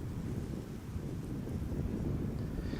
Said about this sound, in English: Wind is picking up a little bit